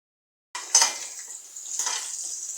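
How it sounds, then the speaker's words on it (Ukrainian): Onion and carrot hit a hot pan and sizzle loudly, with a spatula scraping and stirring as the steady frying hiss continues. "Жаримо нашу цибульку з морквою."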